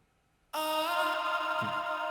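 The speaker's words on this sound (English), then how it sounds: "it sounds like this with the sound shifter on" Music sample run through a Waves Sound Shifter pitch effect, entering abruptly after a short silence as a bright sustained tonal texture with a low thump near the end, moderately quiet and alone.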